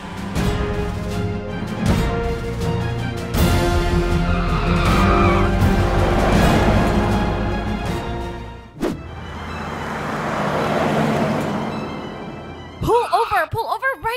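A car in a Roblox game drives and skids, with engine drone, squealing tires and loud sliding bursts, near and sustained, partly under other game sounds.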